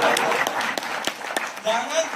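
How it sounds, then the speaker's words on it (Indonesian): Audience applause at a skincare product presentation, a brief scatter of clapping that fills the room, with voices talking over it. "Tepuk tangan dong."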